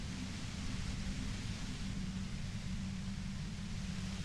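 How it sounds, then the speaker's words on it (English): Harsh, steady white noise fills the space near a compressor in the video game Disco Elysium, a dense, unbroken hiss holding at constant loudness with a heavy low rumble underneath and no talk. "The violent white noise becomes even more overwhelming closer to the compressor."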